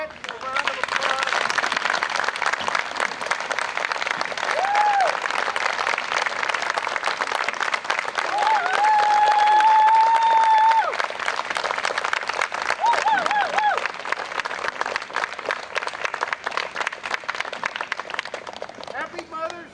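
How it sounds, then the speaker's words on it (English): Steady applause from a large crowd at a military cadet review, sustained throughout, with a few faint whistle-like tones rising briefly above the clapping. "Let's give these cadets a round of applause."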